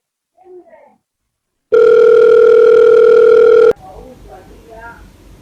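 A telephone line sounds one long steady tone for about two seconds, loud and near, with indistinct voices before and after.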